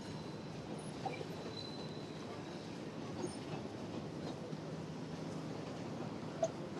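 A Chicago elevated Orange Line train rolling overhead, a continuous low rumble with faint rail clatter and occasional squeals, heard from street level below, fairly distant and steady throughout.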